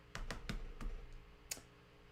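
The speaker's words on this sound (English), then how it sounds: "You hear he taps on his keyboard." Faint clicks of someone typing on a computer keyboard in a Minecraft roleplay game: a quick run of four taps, then a pause and one more click.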